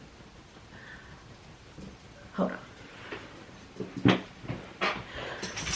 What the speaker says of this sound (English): That's the dog that just came in.